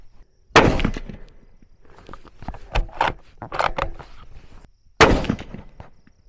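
Two sharp, loud rifle shots ring out about four seconds apart at an outdoor range with Ruger and Winchester rifles. Softer mechanical clicks and rustling fall between them.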